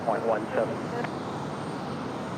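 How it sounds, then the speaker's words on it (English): An Airbus A350 airliner on pushback at Raleigh-Durham airport gives a steady, moderately loud engine roar and whine, heard at some distance with a voice talking briefly over it. "So there you go, the A350 on the push"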